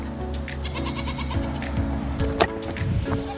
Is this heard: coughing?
no